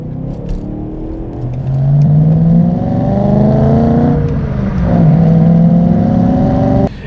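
BMW E92 M3 with a naturally aspirated V8 engine revving hard, pitch climbing smoothly through long pulls with a brief dip between them, loud and close with no talking.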